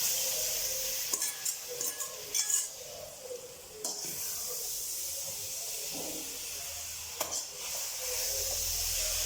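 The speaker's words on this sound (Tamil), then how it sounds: "இப்போ மிளகா நல்லா வறுத்தாச்சு. இப்போ இந்த இலையை இதில் போட்டேன்." Citron leaves tossed into a hot pan already holding fried chillies and tamarind give a steady sizzle and hiss, with a few sharp stirring scrapes and clinks rising above it, close and moderately loud, with no voices.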